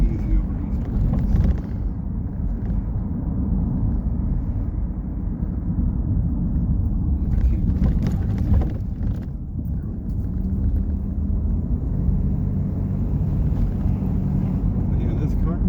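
A 1992 Oldsmobile Ninety Eight Regency on the road, with a steady low engine and road rumble heard from inside the cabin, continuous and fairly loud, with brief faint talk in the car.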